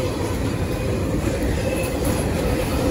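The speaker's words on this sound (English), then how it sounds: "See both trains going by here." Freight train led by a Kansas City Southern SD70ACe diesel locomotive rolling past close by, a steady loud wash of rumbling engine and wheel noise with rail clatter throughout, no voices.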